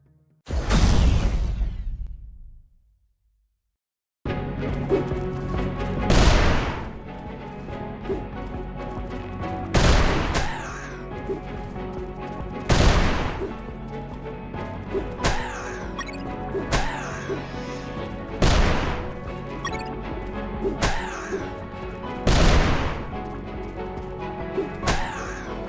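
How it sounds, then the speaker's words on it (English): Grenade blasts and gunfire in the 2021 PC game UnMetal: one heavy explosion followed by a brief silence, then repeated loud impacts and bursts roughly every two seconds over a steady game soundscape. "The fight began as he tossed the first grenade at me."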